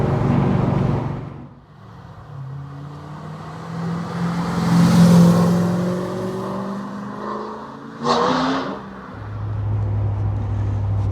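A Mazda ND Miata fitted with a 525 hp LS3 V8 and open exhaust revs and pulls away, loud deep engine roar rising and falling in pitch through gear changes, then settling into a steady low drone.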